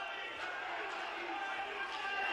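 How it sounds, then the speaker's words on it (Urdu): A crowd chants slogans in the visitors' gallery of Pakistan's parliament during a no-confidence vote, a steady dense roar of many voices that holds at the same level throughout, with no single speaker standing out. "بھرپور نعرے بازی ہو رہی ہے"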